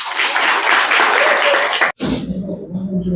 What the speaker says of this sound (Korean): 정당들을 응원한다는 그런 의미로 박수합니다.